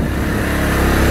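A motorcycle engine pulls in second gear, a loud continuous throaty drone with a steady low pulse, heard close and alone for about a second.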